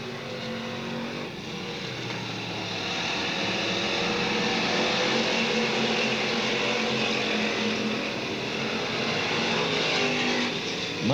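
Race cars lapping the Talladega short track during a 2009 race, a dense continuous roar of engines that swells and fades slightly as cars pass, heard from a distance without voices.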